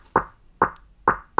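Beat intro filtered with the high end removed, leaving muffled knocking hits that repeat evenly about every half second, dull and thumpy with little treble.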